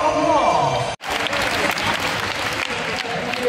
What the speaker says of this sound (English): Let's give a round of